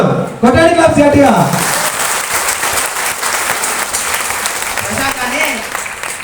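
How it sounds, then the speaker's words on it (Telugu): Loud audience applause and clapping at a Telugu public gathering, starting abruptly and sustained throughout, with a speaker's voice heard over the clapping near the start. "కొట్టండి క్లాప్స్ గట్టిగా"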